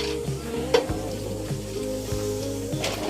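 Steady crackling sizzle of bananas frying in a pan, continuous and close, with a few brief louder pops and clinks.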